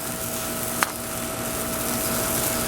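Peppers and onions hit a skillet of rendered pancetta fat, giving a steady, moderate sizzle throughout with one brief sharp clink partway in, and no talking.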